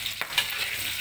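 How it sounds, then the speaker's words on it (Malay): Petai beans still in their skins sizzle and crackle in hot oil in a pan, with a couple of small sharp pops over a steady frying hiss. "Tapi kalau petai dengan kulit dia meletup. Jadi kita goreng, jaga-jaga."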